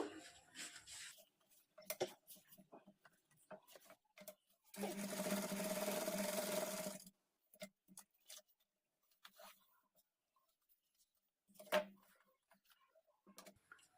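A sewing machine stitches a princess-cut padded blouse in one loud, steady run of about two seconds, set among quiet clicks and handling noises from the fabric and machine.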